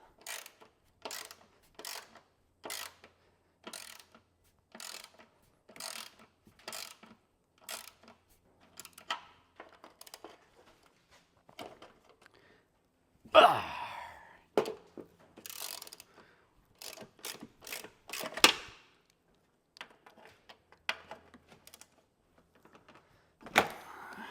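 Bolts being loosened during a 2-inch lift install on a truck: sharp ratcheting clicks come in regular bursts, then turn irregular with some louder clanks and scrapes, close by and with no talk.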